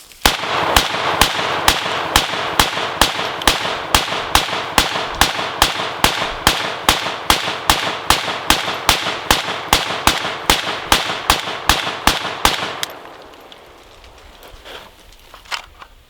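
A Zastava ZPAP M70 AK rifle fires during a sand tornado test, a long steady string of about thirty sharp, loud shots at an even rhythm, then stopping abruptly and leaving quiet outdoor background.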